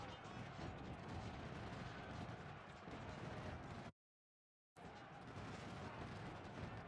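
Artillery fire in Ultimate General: Civil War, a dense continuous roar of cannon and gunfire booming loudly, broken by a brief silent gap before resuming.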